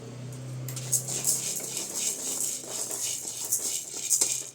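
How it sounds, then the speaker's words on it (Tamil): Toor dal dry-roasting in a pan, a steady dry rattle and patter of lentils shifting against the metal, moderately close and continuous for several seconds, with a few louder scrapes near the end. "நம்ம துவரம்பருப்பு வறுத்துக்கலாம்."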